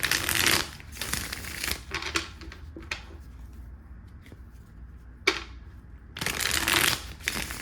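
Several bursts of tarot cards being shuffled, crisp riffling rustles near the mic separated by quieter pauses and a single sharp snap.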